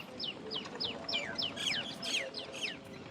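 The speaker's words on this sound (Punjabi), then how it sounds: "ਆ ਦੇਖੋ ਤੋਤਿਆਂ ਦੀਆਂ ਆਵਾਜ਼ਾਂ" Repeated sharp, high chirping calls from parrots, several overlapping in a quick irregular series against steady outdoor background noise.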